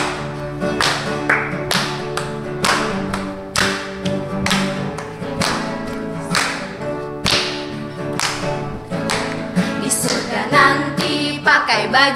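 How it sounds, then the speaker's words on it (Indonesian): Children's rhythmic hand clapping during a lively church song, sharp repeated claps in a steady beat over loud music for the whole stretch. "Tepuk tangan yang semangat."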